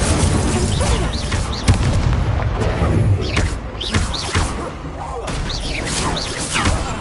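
Incendio fire spell cast in Hogwarts Legacy, a loud, dense run of magical bursts, booms and thuds layered over continuous game effects, with several sharp impacts spread across the stretch.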